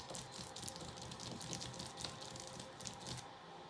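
Fingers scratch on plastic to imitate a dog's paws, a steady, dense, scratchy rustle that runs close and alone for several seconds before fading at the end.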